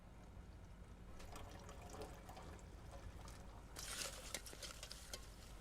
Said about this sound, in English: Just pour it in here.